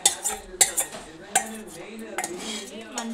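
Utensil scraping and clinking against a dish while chicken is mixed with curd for a marinade, a quick run of close, irregular clatters.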